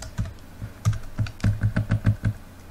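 Close, clear keystrokes on a computer keyboard while writing code, coming as a quick uneven run of about a dozen clicks and thumps.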